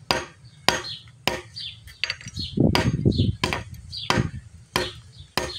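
Repeated hammer blows crack down on a fake ring, about eight sharp hits in a row, with a brief scuffling rustle midway and slight crunching as glass pieces pop off.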